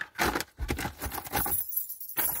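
Keys jangling in a brief bout of metallic clinks and rattles at close range, fairly loud, with a short quiet gap before the jingling resumes; no one speaks.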